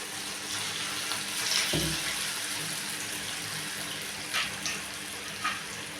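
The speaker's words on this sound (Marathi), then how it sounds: "याला आपण गोल्डन ब्राऊन होईपर्यंत तळून घेऊ." Small balls of dahi vada batter fry in hot oil with a steady, dense sizzle close by, broken by a few brief clinks and spatters, with no talk.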